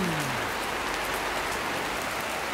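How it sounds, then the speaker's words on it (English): Heavy rain pours down steadily in wet, miserable weather, a dense even hiss of drops striking surfaces close by with no pauses and no voices. "rains have come now in force. Horrible, miserable, miserable weather."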